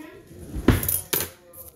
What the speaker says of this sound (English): So you need a spoon and a knife for peanut butter.